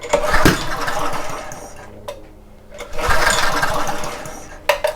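A Homelite 2500 watt generator with suspected intermittent spark trouble is cranked, making two loud sustained bursts of engine churning, separated by a short quiet gap, with no clean start.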